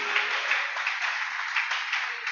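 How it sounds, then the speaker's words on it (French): Congregation clapping in praise of Jesus during a church service, a sustained, even burst of many hands applauding together, bright and fairly loud with no voices on top. "Salva de palmas para Jesus."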